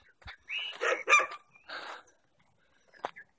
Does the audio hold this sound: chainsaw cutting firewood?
no